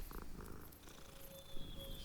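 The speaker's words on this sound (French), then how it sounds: "Un chat." A cat purring inside the Hogwarts Legacy video game, a soft continuous purr heard alone over quiet game ambience with a faint high tone, no talking.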